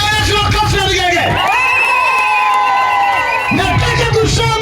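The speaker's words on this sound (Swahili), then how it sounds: "Piga Yesu makofi na vigege." A church crowd at the opening day of a revival meeting in Kasulu claps, cheers and ululates loudly in praise of Jesus, with high trilling cries and shouts filling the whole stretch.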